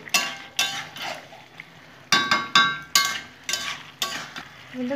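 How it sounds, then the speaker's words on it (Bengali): Peas being stirred in a frying pan with a utensil, giving repeated scraping and clinking strokes in short bursts with brief pauses, close and fairly loud with no talk. "মটরশুঁটি নিয়েও আমি সুন্দর করে নেড়ে নেব।"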